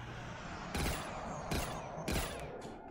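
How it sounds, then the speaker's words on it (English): Burst-fire weapon shots in a Black Ops III custom Zombies match on the Skyjacked map, three short broadband bursts spaced about 0.7 seconds apart, loud and close over steady game background noise. "It's the burst fire, what the freak?"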